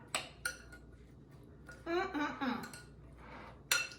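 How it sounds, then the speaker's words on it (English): A utensil stirs a fish dish in a bowl, with a few sharp clinks of metal on crockery and a short scraping swirl, close and moderately quiet, with a voice speaking in the middle. "Give it a stir."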